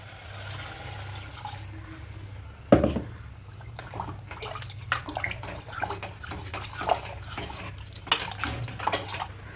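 Water pours into a metal pressure cooker of chicken curry with a splash, followed by clinks and sloshing over a steady low hum.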